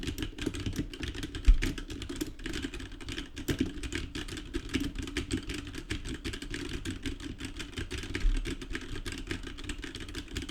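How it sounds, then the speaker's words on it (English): Typing on a mechanical keyboard with red linear switches, a rapid steady clatter of non-clicky keystrokes heard close up and continuing throughout. "this is a red linear switch mechanical board, so it's not the loudest board out there. It doesn't have clicky switches, but still it can make quite a bit of noise."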